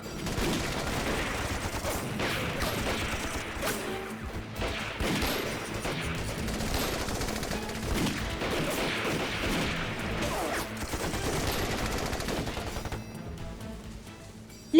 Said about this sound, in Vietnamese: ngoài tiếng súng máy của bọn Nhật còn có một loại nữa